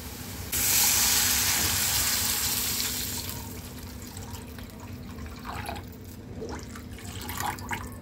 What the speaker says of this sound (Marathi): तर आता मी यामध्ये पाणी ॲड करणार आहे.